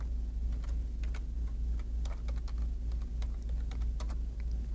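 Keys tapping on a computer keyboard while entering an HTML doctype in Notepad, a steady run of light, close clicks over a low constant hum.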